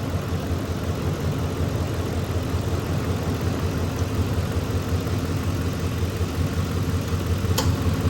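A 2004 Ford F150 with the 5.4 litre engine idles steadily up close, a continuous even rumble with one faint tick near the end and no talking.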